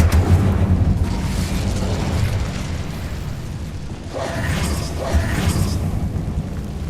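Incendio fire spell cast in Hogwarts Legacy, heard as a loud, sustained roaring burst of flame with rumbling booms and a couple of brighter crackling flares near the end.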